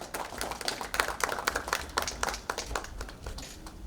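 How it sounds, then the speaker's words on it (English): Audience at a memorial ceremony for the first death anniversary of Archbishop Dominic Jala applauds during a memento presentation, giving moderate scattered clapping that stays steady for several seconds. "Can you have a round of applause, please?"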